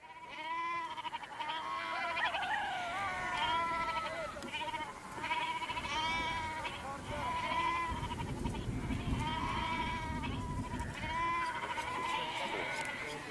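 Goats bleat repeatedly in Iran in a series of wavering, nasal calls, fairly close, with some rustling and background noise between them.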